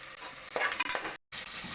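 Curry leaves drop into hot oil for chicken soup, giving a loud, steady close-up sizzle and crackle with brief stirring scrapes. There is a short silent gap near the end.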